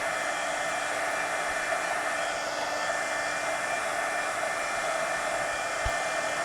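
A hair dryer blows steadily and evenly on the back of a mixed media napkin art journal page, a continuous close whirring rush that holds at one level throughout with no talking.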